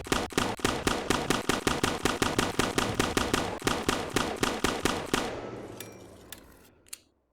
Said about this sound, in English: we are going to be checking how many hits it'll take to take down the Warden with a musket